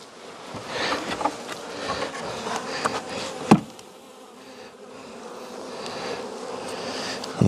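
Honeybee drones from a freshly opened colony hum in a thick, steady buzz close by, with a sharp knock partway through as the hive equipment is handled.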